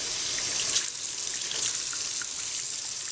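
Tap water runs steadily into a bowl at a sink, heating up for cleaning a 40-year-old Berjusa doll, a close, constant hissing splash with no pauses or talking.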